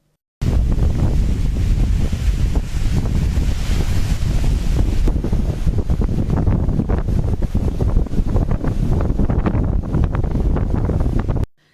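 Strong wind buffets the microphone in a steady roar over rough, churning sea at Pamban as Cyclone Fengal lashes the coast, loud and unbroken without voices.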